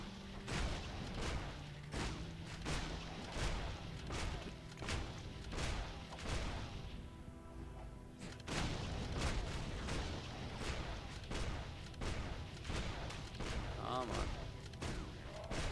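Engineer's cannon firing in the video game Torchlight 2, a rapid series of booming blasts and explosions in bursts, loud and repeated across the whole stretch with game effects mixed in.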